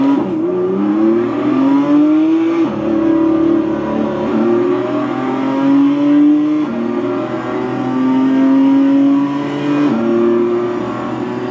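A BMW 2 Series race car in iRacing roars at speed around Talladega superspeedway, its engine note climbing through several upshifts in a loud, continuous drone heard alone.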